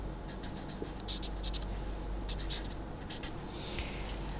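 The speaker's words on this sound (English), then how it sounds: "So, I will draw the same vector v." Marker or chalk drawing a vector by hand on a board, a steady continuous scratchy rubbing stroke heard up close with no talking.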